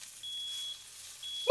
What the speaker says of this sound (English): Smoke alarm beeps.